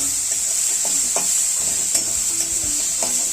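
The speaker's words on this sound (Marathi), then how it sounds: "हा मसाला असा एकदम चांगला असा परतून घ्यायचा" Chopped green chilli and turmeric masala sautéing in oil for vada pav, a bright continuous sizzle with steady scraping and stirring strokes of a spoon against the pan, close and alone.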